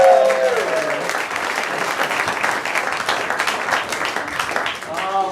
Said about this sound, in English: it's another round of applause for